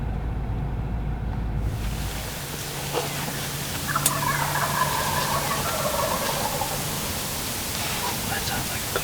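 A wild turkey gobbles during a Kansas turkey hunt, a rattling call at moderate distance heard over steady wind and field hiss, with quiet talk nearby.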